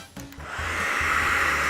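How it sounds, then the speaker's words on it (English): A hair dryer starts up and settles into a steady, loud rush of blowing air with a low motor hum underneath, continuous throughout. "If you've ever used a hairdryer like this one"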